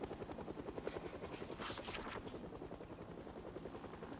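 A helicopter flies overhead in the video game Project Zomboid, its rotor thumping in a fast, even rhythm with a whooshing swell midway through.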